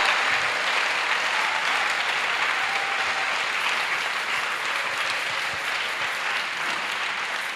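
A large church congregation at a salvation and healing weekend service in Port-Bouët claps and applauds in a dense, steady roar of hands that holds loud throughout.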